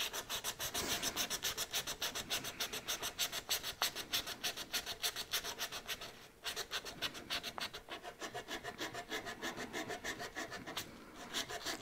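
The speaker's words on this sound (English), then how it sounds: "I don't normally sand across, but sometimes just to get a bit of a result, it's an idea" Hand sanding on the wood of an antique dressing table, a steady rapid back-and-forth rasping that is close, loud and continuous, with only brief pauses between strokes.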